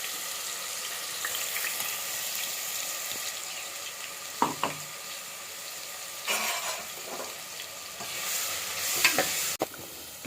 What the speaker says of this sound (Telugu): ఇప్పుడు ఇందులోకి ఇందాక మటన్లోకి ఇంకా మిగిలింది అల్లం వెల్లిపాయ పేస్ట్ వేసుకుందాం